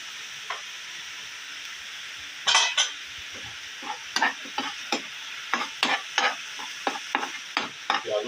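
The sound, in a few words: onions frying in oil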